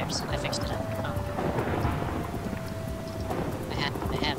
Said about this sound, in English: There's so much rain and thunder and just everything is exploding.